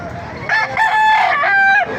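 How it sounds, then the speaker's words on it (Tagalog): A rooster crows loudly and close by at a busy chicken market in Baliuag, one long drawn-out call, with other chickens clucking around it. "Maraming manok."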